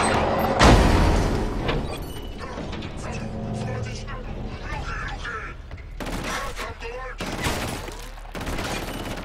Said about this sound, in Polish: Że strzela do mnie, nie wiem czemu.